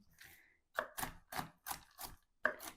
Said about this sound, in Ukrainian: Нарізаємо так. Як виходить, хай будуть і крупні, і дрібні, і всілякі шматочки.